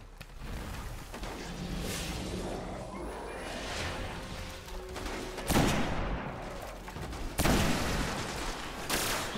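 Sniper rifle shots in the Destiny video game ring out as two sharp, loud cracks a couple of seconds apart over a busy background of distant gunfire and game sounds.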